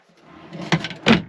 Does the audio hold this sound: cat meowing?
no